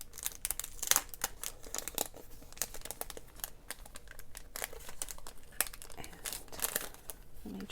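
Paper packaging crinkling and rustling while a paper pad from a journal and planner supply kit is unboxed, close, quiet bursts of irregular crackles and rustles, with a brief spoken word.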